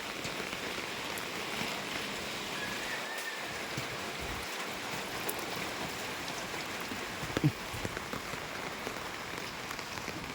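Steady rain falls outdoors on a cold morning where a flag ceremony was called off, a dense continuous hiss of drops hitting surfaces with a few sharper taps close by, with no voices.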